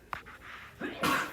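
A single sharp sneeze breaks out indoors during a maths lesson, a quick intake followed by a loud burst about a second in, fairly close.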